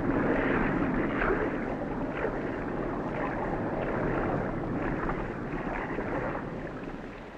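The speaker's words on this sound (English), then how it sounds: "Suddenly, I was aware of a sound vibration. It could be an approaching ship." A steady, deep rumbling drone fills the clip, like a ship's engine vibration heard from underwater, constant and fairly loud with no voices.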